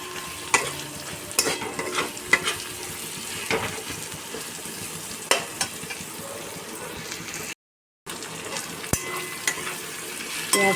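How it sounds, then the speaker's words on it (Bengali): Chopped onions frying in a pan over browned garlic, crackling sizzle throughout with frequent scraping spatula strokes and clicks against the pan, briefly dropping out for a moment. "এবার আমি কুচিয়ে রাখা পেঁয়াজগুলো"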